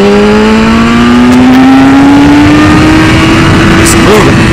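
A 2015 BMW S 1000 RR sport bike engine roars loudly and up close while riding on a track, its pitch climbing steadily as it accelerates through the whole stretch.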